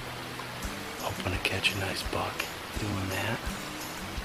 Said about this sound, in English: Little stream running down this ravine beside me.